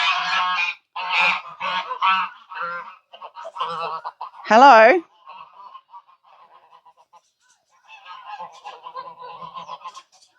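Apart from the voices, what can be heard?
geese honking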